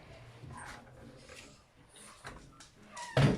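A dog makes faint, soft whimpering sounds and small noises in a quiet room, ending with a brief, sharper, louder yelp-like sound.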